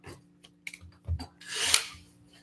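A Metabo drill starts up slowly after a few clicks and handling knocks, its whir rising in a brief soft ramp, close and fairly loud, then dropping away again.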